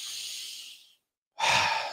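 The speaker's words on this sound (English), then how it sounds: "It just feels very strange to take a deep breath in through my mouth." A person breathing out, then a short pause before a sharp, loud deep breath drawn in through the mouth, close and alone.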